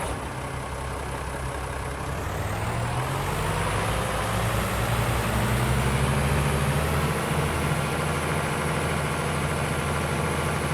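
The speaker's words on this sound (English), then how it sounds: "We're going to jump on our old international tractor around the corner" A heavy old International tractor engine idles steadily in the video game Farming Simulator 25, with a deep, constant rumble, its pitch shifting slightly as it revs, continuous and close throughout.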